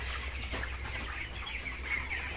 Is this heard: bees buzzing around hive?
no